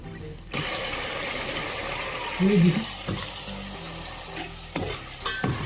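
Chicken masala sizzles steadily in oil in a pan for a rustic spinach chicken curry, a close, constant frying hiss broken by a few scraping stirs and clicks.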